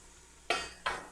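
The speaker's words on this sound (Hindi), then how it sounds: "सब्जियां डालने के साथ ही उनको अच्छे से मिक्स कर देंगे।" Mixed vegetables for pickle being stirred in a bowl, two quick scraping, clattering strokes of a utensil, close and moderately loud against a quiet background.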